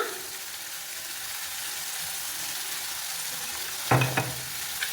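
Tomatoes fry in a pan of roasted onions for a bitter gourd gojju, giving a steady, moderate sizzle that swells into a louder, busier crackle near the end.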